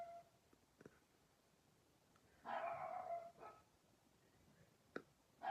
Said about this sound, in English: that's my dog barking, if you can hear that